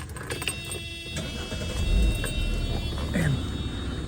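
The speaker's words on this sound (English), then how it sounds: "I'll get the car running" Mercedes W124 E320 with M104 engine cranks and catches, then settles into a steady, smooth idle close by, with a low rumble and no squeal.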